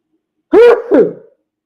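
A grown man sneezes once, close and loud, a sharp two-part burst that breaks off quickly into silence.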